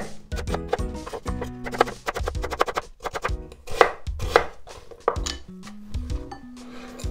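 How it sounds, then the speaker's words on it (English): Vegetables for Japanese tsukemono pickles are cut into half-centimeter ginkgo-leaf slices on a board with a knife, making a run of close, crisp chops in bursts and pauses, with occasional light clinks. "I'm gonna cut these into bite-sized pieces"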